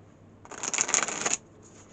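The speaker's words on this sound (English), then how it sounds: "Yeah, they seem to shuffle beautifully either way." A tarot card deck with gilded edges is riffle-shuffled up close, giving one quick, crisp burst of fluttering card slaps under a second long.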